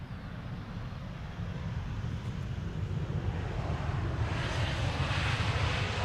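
A Boeing 747 arriving from Nairobi lands at Amsterdam Schiphol on a sunny day, a distant low jet roar that builds steadily with a rising hiss, heard from outdoors with some wind on the microphone.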